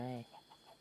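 A chicken in the Minecraft Pocket Edition survival game gives a short burst of clucking, followed by faint softer clucks, heard alone without talk.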